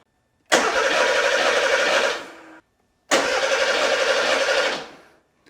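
A Porsche 911 Carrera 3.2L engine cranks on the starter in two separate bursts of roughly two seconds each, loud and close, with a brief silence between them and no voices.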